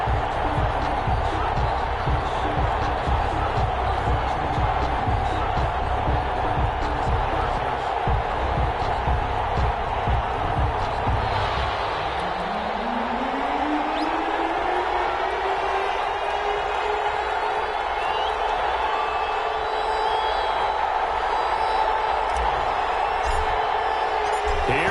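A stadium crowd in an NFL video game roars and murmurs steadily before a Minnesota Vikings versus Indianapolis Colts matchup, with an announcer speaking over the continuous background noise.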